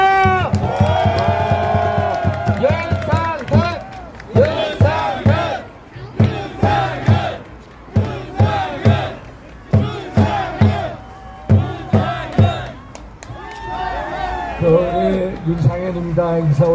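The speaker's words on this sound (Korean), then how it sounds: "박수!" Large crowd at an outdoor right-wing political rally near Hannam Elementary School in Seoul shouts and chants in loud, rhythmic bursts with short gaps between them. The voices are close and forceful, with some clapping mixed in.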